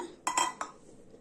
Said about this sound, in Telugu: ఇప్పుడు ఒక మిక్సీ గిన్నె తీసుకొని